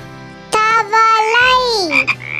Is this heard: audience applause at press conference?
no